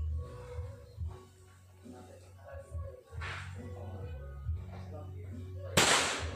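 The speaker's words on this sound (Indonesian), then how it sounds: "kita tes dulu ya untuk tes jarak tembak 25 meter menggunakan peluru Hercules" A PCP air rifle fires a Hercules pellet at a 25-meter target, making a single sharp crack near the end after a stretch of quiet talking.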